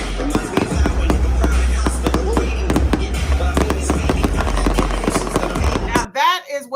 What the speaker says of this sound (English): Look at the fireworks,